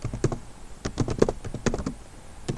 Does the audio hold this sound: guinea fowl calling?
no